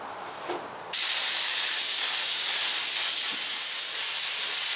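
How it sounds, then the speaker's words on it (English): An air-fed spray gun hisses steadily onto a sheet of plywood during a teardrop trailer build, a loud, continuous broadband rush that starts abruptly about a second in and holds without a break. "So we're going to load up the gun, hook the air to it, fold our piece of plywood back, and start spraying."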